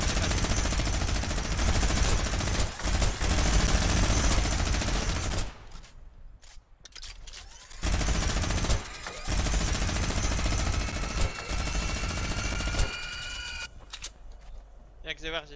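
Dense, continuous bursts of automatic gunfire in a video game, loud and rapid, breaking off into brief gaps before resuming, with occasional ringing electronic tones layered over the shooting.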